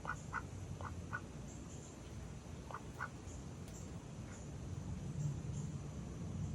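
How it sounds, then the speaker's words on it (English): Several short quacks from pet ducks, scattered and moderately close over a steady low background hum, with no talking. "We're adults with pet ducks"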